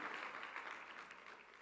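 A church congregation gives Stony a round of applause, a faint, fairly distant wash of clapping that slowly tapers off.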